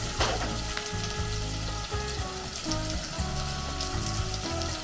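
Tomato paste and pilau masala spice fry together in a pan for a Kenyan dish, giving a steady close sizzle with soft stirring scrapes and a low rhythmic pulsing underneath, no one talking.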